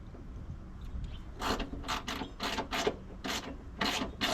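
A 10 mm ratchet tightens a chassis ground bolt for the battery connection during a killswitch install, about eight quick, close rasping strokes in an uneven rhythm after a quiet start.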